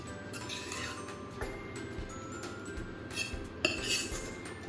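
Paneer gravy spooned into a biryani handi pot, with faint clinks and scrapes of a spoon against the vessel, quiet and close, and no talking.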